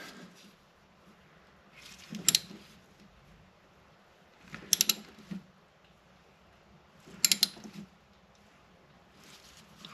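A brake bleed screw on a 2015 BMW Mini Cooper D is threaded in and out by hand, making three faint clusters of soft scraping and clicking, evenly spaced roughly every two and a half seconds against a quiet background.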